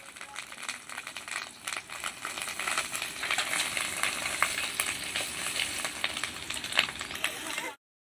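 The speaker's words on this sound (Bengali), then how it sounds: "ডিমটা আমরা তেলের মধ্যে দিয়ে দিলাম" Catla fish roe frying in hot mustard oil, a loud, steady sizzle and crackle close up with occasional spatula scrapes and stirring rattles throughout.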